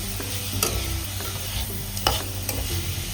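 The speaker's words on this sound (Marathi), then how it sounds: "आपण आता खोबरं भाजून गोळ एक मिक्स करून घेऊ." Grated coconut and jaggery roast in ghee while being stirred, producing a continuous low sizzle with periodic scraping strokes and light clanks of a spoon on the pan, close up with no voices.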